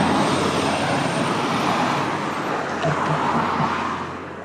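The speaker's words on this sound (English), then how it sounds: "as I let you enjoy the traffic noise." Traffic at the Esquimalt Road and Colville Road junction: a steady loud roar of passing vehicles with a low engine drone that eases off slightly near the end, and no one speaking.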